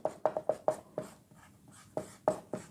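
Chalk or pen strokes while equations are written during a maths lesson, a quick run of sharp taps and scrapes, then a pause and a few more strokes, close and alone without talk.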